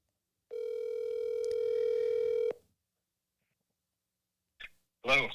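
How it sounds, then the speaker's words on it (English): A telephone dial tone hums steadily for about two seconds as a call is placed, followed by a few short clicks or bursts near the end. "I'm going to call you right now via phone."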